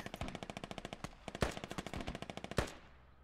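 Machine gun suppression fire from a Humvee in the video game Squad: a rapid, evenly paced burst of automatic shots with a few heavier impacts mixed in, fairly distant and without talk.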